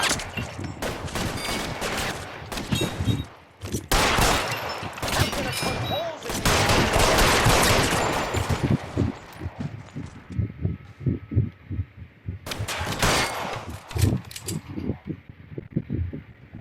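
Heavy gunfire rages in a 1940s Los Angeles crime shootout, with dense volleys of shots crackling in loud bursts that pause briefly and then resume, and voices shouting now and then.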